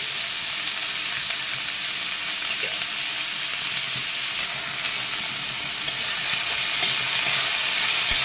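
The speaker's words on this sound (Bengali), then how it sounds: "আমি এইভাবে করলাগুলোকে আস্তে আস্তে ভেজে নিচ্ছি।" Bitter gourd slices frying slowly in oil, a dense, continuous close sizzle and hiss with no pauses and almost no other sound.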